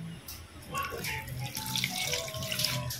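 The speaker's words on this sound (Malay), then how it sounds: "Kemudian bolehlah kita masukkan setengah tin air kosong." Half a can of plain water poured into a blender while making caramel pudding, a continuous splashing trickle that swells slightly over three seconds, fairly faint and close.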